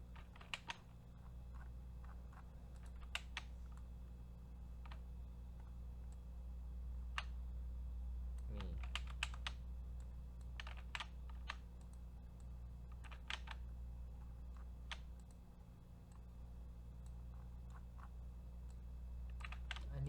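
Keys clatter on a computer keyboard in quiet bursts of rapid clicks separated by short pauses, close and fairly soft over a low steady hum, with no one speaking.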